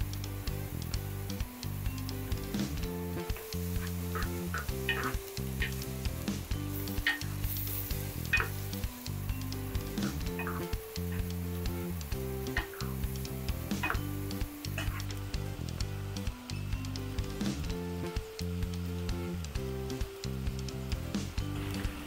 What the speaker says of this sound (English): saute the beef in its own fat until it turns light in color.